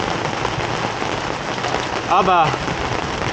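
Heavy rain during a thunderstorm at the Circuito de Navarra paddock in Spain, a dense steady hiss. Someone speaks briefly over it.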